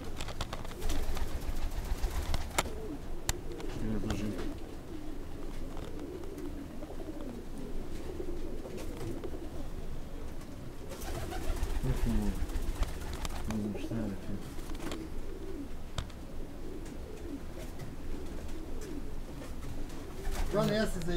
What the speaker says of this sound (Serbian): Ima lepi golub.